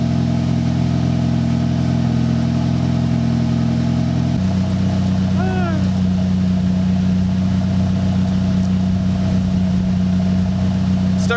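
A Honda car engine idles steadily while warming up after a piston soak for stuck oil control rings, a low hum dropping to a lower, smoother pitch partway through, running continuously up close.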